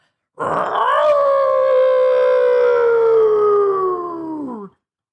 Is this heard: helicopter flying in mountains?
no